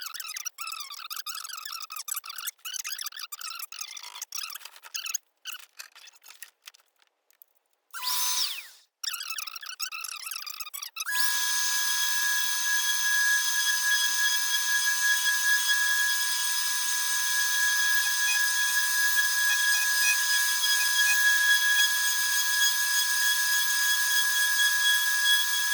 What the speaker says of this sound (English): we're just going to lightly sand the table now with a P120 grit